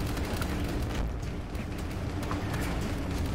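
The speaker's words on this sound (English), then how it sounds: "Is he even taking damage with all the explosions going on around him?" A steady, rumbling wash of distant video game explosions and booms, fairly quiet, with a few sharper bursts standing out from the low roar.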